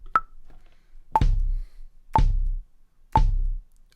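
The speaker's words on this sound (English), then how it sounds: "And with the metronome, that sounds like this." Four evenly spaced BandLab metronome clicks, a higher accent click followed by three lower ones, each leaving a short thump underneath.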